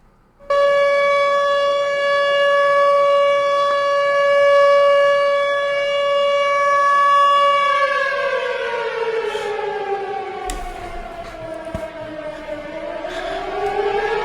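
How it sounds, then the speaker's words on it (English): A loud civil defense siren wails on a steady tone for several seconds, then its pitch slides down and rises again in a long sweeping cycle, heard alone with no talking. "Where's my sirens at?"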